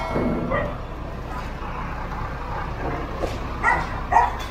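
A few dog barks ring out at moderate distance over low background rumble, with a voice speaking briefly at the start.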